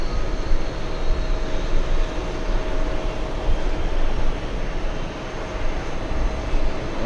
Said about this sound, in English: Is that a Dreamliner? Yeah, that was a Dreamliner. Air Europa. Go around.